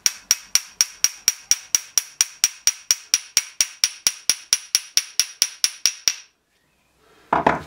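A hammer taps a wheel stud into a hub about twenty-five times in a fast, even rhythm, each strike a sharp metallic ring, close and loud, before stopping briefly and giving way to a short clatter.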